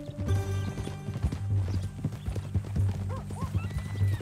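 Horse hooves clip-clop at a steady walking rhythm in Red Dead Redemption 2, close and clear, with a brief whinny and a voice speaking over the hoofbeats.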